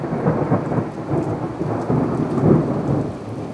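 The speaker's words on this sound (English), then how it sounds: "That was one thunderclap." A thunderclap rumbles through a thunderstorm in Poole, Dorset, a deep rolling boom over steady heavy rain pattering on surfaces, peaking in the middle and lingering without any talk.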